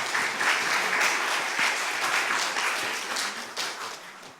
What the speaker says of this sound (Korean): 여러분 다시 한번 박수를 해주시고요